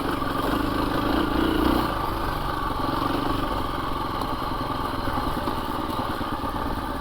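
A 2024 KTM 350 EXC-F dirt bike engine at low speed in second gear, with a brief throttle rise early on, then a steady mid-pitched rumble and clatter close by.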